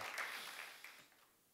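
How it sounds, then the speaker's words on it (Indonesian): A church congregation at an online Christmas Eve service gives a brief round of applause, a short, fairly faint burst of clapping that fades out within about a second and a half. "Kita berikan tepuk tangan yang meriah buat Tuhan."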